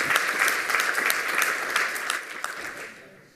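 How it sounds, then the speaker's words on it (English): Audience applause at a lightning-talks session of a hacker conference, a brisk burst of clapping that holds for a few seconds, then fades away. "Give him a round of applause for that."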